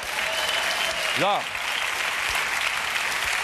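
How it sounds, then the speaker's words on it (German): Studio audience applause on a German late-night talk show set, a steady broadband clapping wash running through the whole moment, with a man's brief spoken word over it. "Jawohl, Ihr Beifall."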